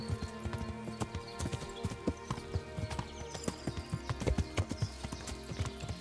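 Horse hooves clip-clopping at a steady, rapid riding rhythm in the medieval video game Kingdom Come Deliverance, quiet but distinct, with harness and movement sounds underneath.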